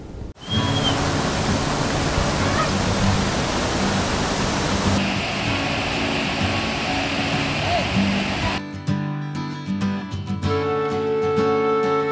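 Mangeli waterfall in Mangeli village during the monsoon: a loud, steady roar of rushing, falling water fills the scene close by and continues without a break, with its tone shifting in the last few seconds.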